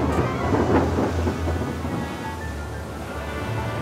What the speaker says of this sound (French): Et puis une grosse averse. Et puis des torrents d'eau tombèrent, le jour et la nuit sur la terre